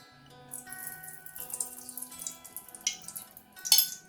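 Pasta water poured off cooked pasta in a home kitchen, a steady splashing rush of water into a sink with a few sharper spatters and drips near the end, no voices.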